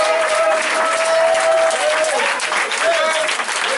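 A church congregation applauds and cheers in praise, steady loud clapping mixed with crowd voices and a sustained sung or shouted tone throughout.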